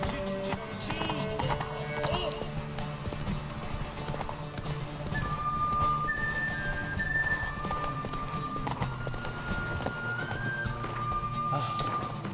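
A horse gallops in The Witcher 3 video game, with rapid rhythmic hoofbeats over a steady background of game music and ambience, and a brief whinny.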